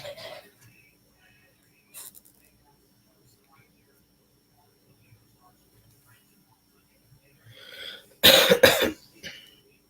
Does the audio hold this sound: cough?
yes